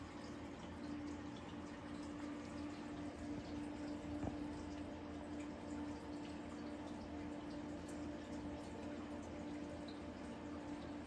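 Water runs and fills continuously in a faint, steady wash, accompanied by a low hum, with no voices.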